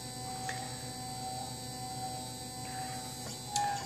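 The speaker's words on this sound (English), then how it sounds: "Mine has this wonderful whining sound as it homes Z." A Printrbot Simple Metal 3D printer whines as its Z axis homes, a faint, steady electric tone with a slight buzz that holds evenly throughout, with no talking.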